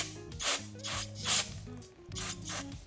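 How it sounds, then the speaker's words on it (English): Carburetor cleaner is sprayed onto a lawn mower's main jet in several short hissing bursts with brief pauses between them, close and moderately loud, with faint mechanical clicks underneath. "take out your gum out spray now and spray it generously all over the main jet"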